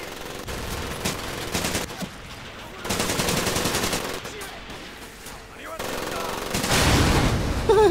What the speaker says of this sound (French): on a un mitrailleur là-haut